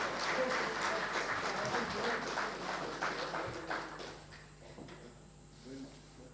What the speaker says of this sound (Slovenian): Dajmo še njim zaploskati.